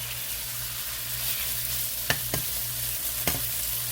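Seafood stew ingredients fry in a very hot wok with a dense, continuous sizzle, broken by a few sharp clicks and scrapes from stirring.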